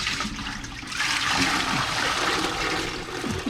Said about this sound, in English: Oh, it's spilling on the oven here.